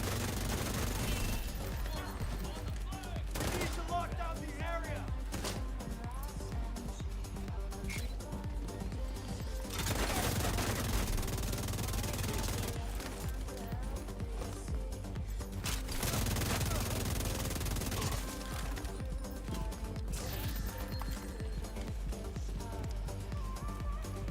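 Sustained automatic fire from the St. Elmo's exotic rifle in The Division 2, repeated bursts across a busy firefight, fairly low in the mix under ambient game noise.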